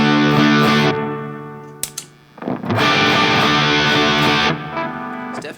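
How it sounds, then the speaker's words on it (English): A heavily distorted electric guitar through a DOD Gunslinger distortion pedal rings out in sustained chords, drops briefly to a few muted clicks, then returns with another loud fuzzy chord. "there's really not a lot to demonstrate on a distortion pedal."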